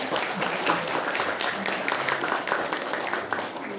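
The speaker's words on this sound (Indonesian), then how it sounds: "Tepuk tangan dulu banyak" An audience clapping, a moderately sized group with uneven, scattered claps that keep a steady level for a few seconds.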